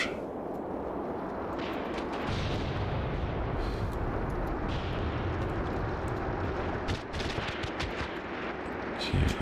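Gunfire from the tactical war game Graviteam Tactics, heard as continuous dense rattling shots and distant battle noise sustained throughout the whole clip.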